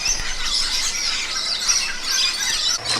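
Birds chirp and tweet continuously in a busy, wild chorus outside a camper van, bright overlapping calls at moderate distance with no talking.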